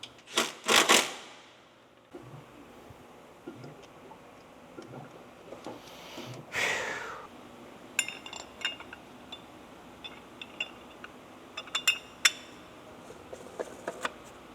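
Lug nuts being refitted to new wheels on a 1998 Honda Integra Type-R DC2, with scattered metallic clinks, ticks and ratchet-like taps, close and fairly quiet, with pauses between.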